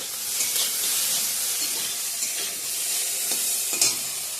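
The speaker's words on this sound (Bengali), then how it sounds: "এদিকে ভেন্ডি ভাজা করছি বন্ধুরা" Sliced okra fries in an oil-filled pan with a steady, close sizzle and hiss, broken by a few sharper crackles and stirring scrapes, with no voices.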